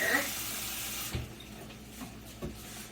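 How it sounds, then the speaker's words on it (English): Tap water runs from a faucet into a bowl of apples in a kitchen, a loud splashing hiss for about a second before cutting off, followed by a few quiet knocks and drips. "we are going to add some water"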